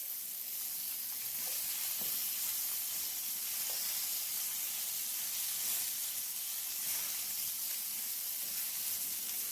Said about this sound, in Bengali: এখন এক পিঠ উল্টে দিচ্ছি তবে বেগুনটা ভাজার সময় খেয়াল রাখতে হবে বেগুনটা যাতে ভেঙে না যায়